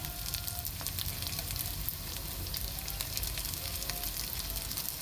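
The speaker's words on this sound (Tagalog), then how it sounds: "Prito. Yan ako pritong bangsi." Milkfish sizzles and crackles steadily in hot oil, a constant frying hiss with small pops, close and fairly quiet.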